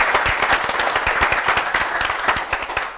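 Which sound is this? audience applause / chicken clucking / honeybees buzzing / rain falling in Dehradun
audience applause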